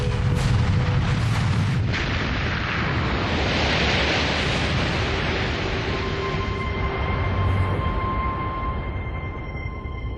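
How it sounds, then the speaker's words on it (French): A huge explosion at Iceland's Eyjafjallajökull volcano during its 2010 eruption comes across as a sustained, loud, rumbling roar of broadband noise with no breaks, thinning slightly toward the end. "Et peu après, une gigantesque explosion survient."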